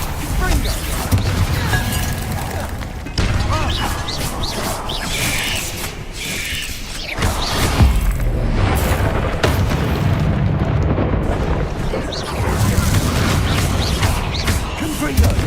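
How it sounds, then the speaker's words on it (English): Confringo fire spell blasts in Hogwarts Legacy land as repeated deep booms and crackling bursts over a dense layer of combat noise, close and loud, with voices talking throughout. "Confringo."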